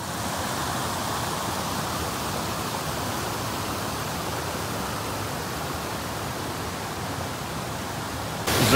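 The fast-flowing Tanew river in a Polish nature reserve rushes in a steady, broadband roar of water, constant and close with no voices, rising slightly at the very end.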